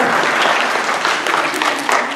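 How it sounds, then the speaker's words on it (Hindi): A seated audience of teachers breaks into brisk, dense applause at a spiritual programme, close and steady clapping throughout the short stretch with no talk over it. "तालियां तो बजाओ।"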